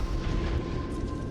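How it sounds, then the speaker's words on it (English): Missile impacts on ships in the space game Astrox Imperium: a dense, continuous low rumble of blasts and booms with a steady tone above, loud and sustained with no gaps. "these missiles are hitting."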